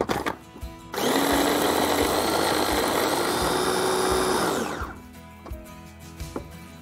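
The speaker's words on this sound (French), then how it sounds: "Je vais remixer le mélange." An electric blender mixes crêpe batter made with ripe bananas, powder and almond milk. A loud, steady whir starts abruptly, runs for about four seconds and then winds down, with faint kitchen knocks before and after.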